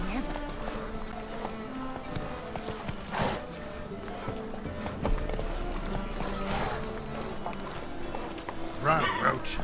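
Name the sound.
Roach the horse galloping, from video game The Witcher 3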